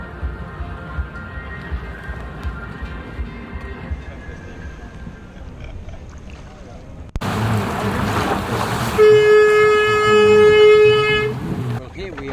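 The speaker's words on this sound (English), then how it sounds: "sailing along at Brest 2016" A sailboat under way at sea at Brest 2016, a maritime festival crowded with all sorts of boats and ships: steady wind and water wash, then louder rushing noise with a sustained tonal hum near the end.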